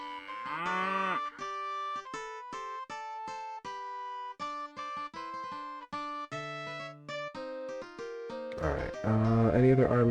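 Cattle mooing in the strategy game Lords of the Realm: a drawn-out moo near the start and a louder one at the end, both over steady plucked game music, with no voices.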